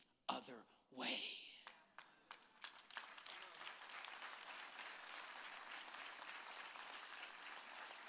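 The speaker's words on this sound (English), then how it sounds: "Now, I know it's dangerous to clap like this" Church audience clapping begins with a few sharp isolated claps and a breathy sound, then builds into steady sustained applause filling the room.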